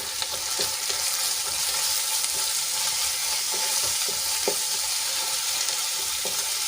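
Spices sizzle and fry steadily in a pan as the base for a gravy, with a continuous close crackle and occasional clicks of a spoon stirring through the mixture.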